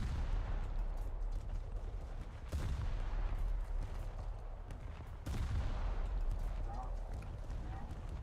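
Ship guns fire in a naval battle video game, a dense rumbling barrage of booming shots with two heavier blasts, rolling continuously and loud, while voices talk over the action.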